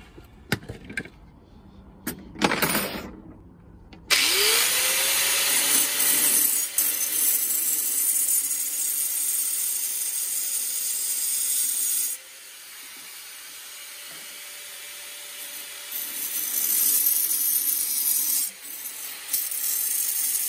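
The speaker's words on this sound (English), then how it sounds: "It's a diamond grinder." A diamond grinder cuts a steel rod in half: after a few clanks, the motor winds up into a loud, steady grinding whine with harsh broadband scraping that lasts about sixteen seconds, easing slightly partway through before stopping.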